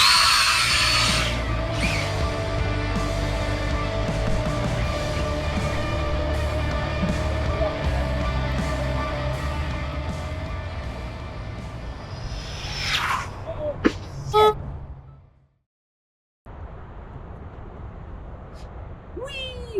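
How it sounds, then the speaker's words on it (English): Rlaarlo AK-787 carbon RC supercar running on a 3S battery, a loud sustained high-pitched electric motor whine that shifts in pitch, then cuts out abruptly and drops to silence. "Let's see what this thing does on the 3S."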